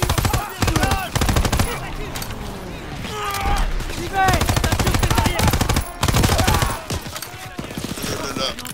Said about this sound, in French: Tir de couverture à gauche